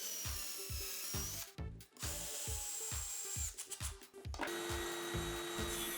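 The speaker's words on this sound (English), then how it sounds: "Here I drill a hole with a bit whose diameter is 1 mm smaller than the screw I will use" Power drill boring a hole in wood with a bit slightly smaller than its screw, a steady high whine over a repeating rhythmic thump, briefly pausing twice, close and loud for the workshop.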